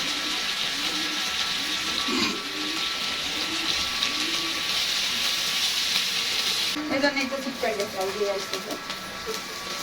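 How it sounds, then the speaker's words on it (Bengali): Whole spices with bay leaf, green chilies and onion fry in hot oil, making a steady sizzling hiss that runs beneath a person talking, with a few stirring scrapes near the end. "গোটা মশলাগুলো ভালোভাবে লেড়ে সেড়ে ভালোভাবে ভেজে নিলাম"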